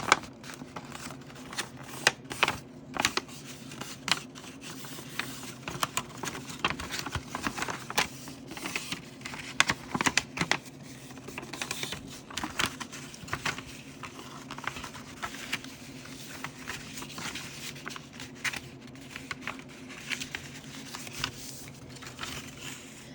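Paper being folded and creased during a fourth-grade art lesson, with repeated soft crinkles, taps and shuffling rustles over a steady low room hum, close and continuous throughout.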